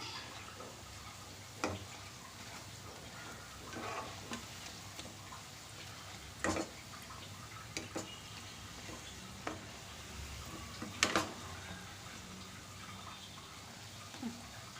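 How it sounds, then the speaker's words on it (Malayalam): A breakfast dish fries gently in a pan, a faint continuous sizzle broken by scattered soft clicks and scrapes as it is stirred and turned. "ഇനി നമുക്കിതൊന്ന് നല്ലതുപോലെ ഒന്ന് തിരിച്ചിട്ട് ഒന്ന് മൂപ്പിച്ചെടുക്കാം."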